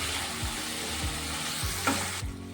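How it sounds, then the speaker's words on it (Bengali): Fried cauliflower is stirred into sizzling masala in a pan, with a steady fry hiss and regular rhythmic scrapes of the spatula against the pan, close and fairly loud. "এখন দিয়ে দেব ভেজে রাখা ফুলকপি। দিয়ে এটা ভালো করে নাড়াচাড়া করে"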